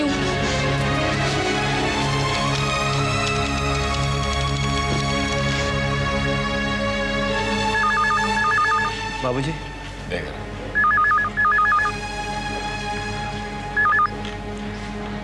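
Short repeated electronic phone ring bursts sound in a few clusters, partly under dramatic background music and a brief spoken line.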